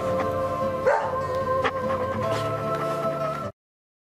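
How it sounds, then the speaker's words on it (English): A dog barks sharply at point-blank range in the video game Deadly Premonition, with a few loud, close barks over a steady backdrop of game music. "People love it when dogs bark directly in their face at point-blank range."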